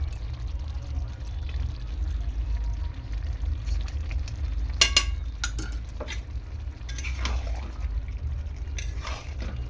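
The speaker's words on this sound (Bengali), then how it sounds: "দেখো একটুখানি ঘি দিয়ে দিচ্ছি আমি।" Ghee is poured over a cooked chickpea and soybean vegetable curry, a soft liquid pour with a few brief clinks over a steady low kitchen hum, no voices.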